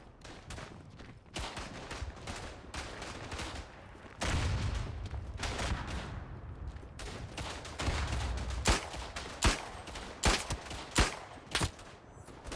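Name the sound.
gunfire in the video game Verdun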